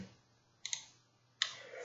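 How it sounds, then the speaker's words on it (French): Computer keyboard keys pressed in a quiet room, a couple of quick close clicks followed by another single sharp keystroke a moment later. "Je fais juste échappe sur mon clavier et j'ai quitté mon diaporama"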